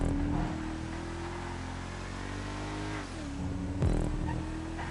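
A GT2-class race car in a racing video game, its engine droning steadily with a sustained tone that dips around a gear change before rising again, loud and alone with no talking.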